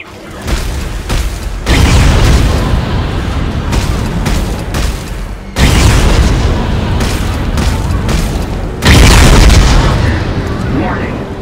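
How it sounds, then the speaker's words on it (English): Heavy gunfire and booming blasts from Dead Space 3 as heat sinks are shot to push a reactor into overload, loud bursts in three surges with a rumbling sci-fi backdrop. "I'm gonna try shooting them to force the reactor to overload."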